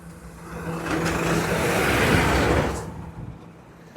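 A bus sweeps past on the road nearby, its broad engine and tyre roar swelling over about two seconds, peaking mid-clip and fading away, with no voices over it.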